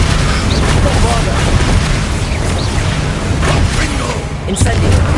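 Bombarda spell blasts in the Hogwarts Legacy video game on PS5, loud continuous booming explosions and rumbling battle noise filling the whole stretch.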